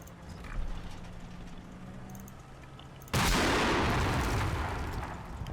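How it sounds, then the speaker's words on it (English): An artillery shell strikes in Combat Mission near a StuG, one sudden heavy blast that cuts through a low ambient rumble and then lingers as a loud, slowly fading roar. "shell coming in at the stug and missing?"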